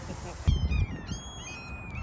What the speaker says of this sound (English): Seagulls at the Walmart parking lot.